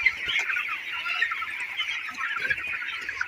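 Broiler chickens on a poultry farm cluck and chatter continuously, a dense flock chorus close by at moderate volume, with faint shuffling and scattered knocks beneath and no talking.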